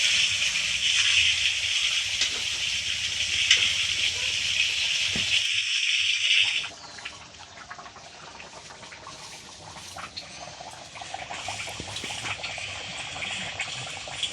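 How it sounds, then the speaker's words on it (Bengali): Meat sautéing in a pan gives a strong, steady hiss and sizzle for several seconds, then drops abruptly to a quieter, crackling simmer with scattered pops. "মাংসটা কষানো হচ্ছে এখন। ভালোভাবে কষিয়ে নেব।"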